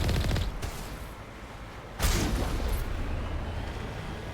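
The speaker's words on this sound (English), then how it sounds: "there's a turret up there. I'm gonna shoot it" Weapon fire aimed at a turret in the video game Mass Effect: a continuous dense roar of gunfire, with a sharp burst near the start and a stronger blast partway through that keeps going to the end. No one talks.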